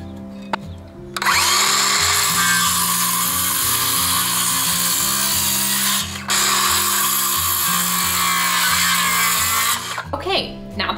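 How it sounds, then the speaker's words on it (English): A power tool whirs loudly while cutting small wooden brackets, running in two long steady passes with a short pause between, over background music. "We just gotta get the little brackets cut"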